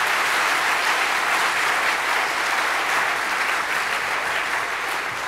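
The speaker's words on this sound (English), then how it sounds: "Big round of applause." Conference audience at a EuroPython lightning-talk session applauding, a dense, steady wash of many hands clapping that stays loud and even for the whole stretch.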